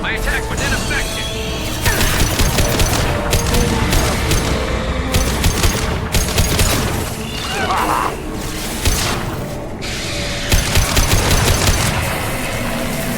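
Dense bursts of rapid gunfire from the video game Mass Effect 2 aboard the Collector ship, with heavy impacts and booms running continuously over a steady loud wall of combat noise, with speech mixed in.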